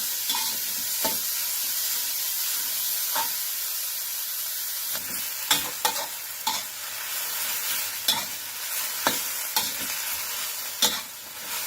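Food is stir-fried in a hot pan, a steady sizzle running throughout with repeated scraping strokes of the spatula growing more frequent toward the end, no voices over it.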